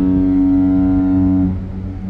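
A ship's horn sounds near the pilot station while entering Corpus Christi, a loud, deep, sustained blast that holds steady for over a second and then fades, with no talk over it.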